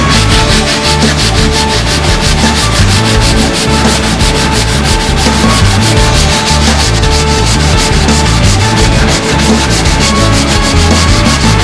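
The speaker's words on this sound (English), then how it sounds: "I'm just going to use a bit of 80 grit sandpaper and a block again, and we're going to block this repair" Body filler on a car's dented guard is block sanded with 80 grit sandpaper, giving a loud, steady back-and-forth scratchy rasp of rapid, even strokes that continues without a break.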